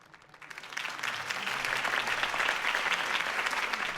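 Crowd applause in a video game, Batman: The Telltale Series, swells from quiet to a sustained, dense clapping that continues steadily to the end.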